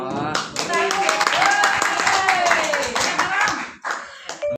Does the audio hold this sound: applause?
yes